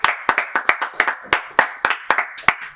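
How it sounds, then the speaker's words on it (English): A small audience claps at a comedy show, with about a dozen sharp, close, uneven hand claps in quick succession. "Okay, we're gonna give him a round of applause."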